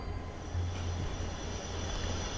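Train at a station in a horror video game, a steady low rumbling drone with a faint high whine above it, continuous and fairly quiet throughout.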